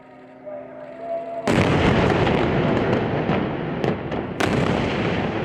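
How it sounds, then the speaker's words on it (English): Explosions from strikes on high-rise buildings in the besieged Gaza Strip, May 2021: a sudden loud blast cuts in after a quieter lead-in, a long rumbling roar follows, and sharp further bangs land in quick succession. "The explosion rips through the air, followed in quick succession by another."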